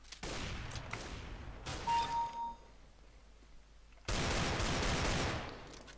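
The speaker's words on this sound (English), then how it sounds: "I'm pressing and holding and it's shooting for me" Gunfire in Counter-Strike: Global Offensive played with a Steam Controller, with loud bursts of rapid shooting at the start, a short ringing lull, then another sustained volley at the end.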